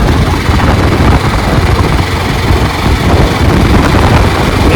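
A BMW G310RR motorcycle in sixth gear gives a loud, steady engine drone blended with rushing wind noise, holding constant for several seconds without pause.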